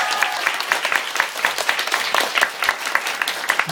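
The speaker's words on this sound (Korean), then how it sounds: "박수 한번 해주세요" An audience at a fan meeting and book event for a singer's first book claps for the author in a brief burst of steady, moderately loud applause lasting under four seconds.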